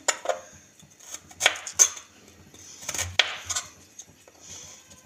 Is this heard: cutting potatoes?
yes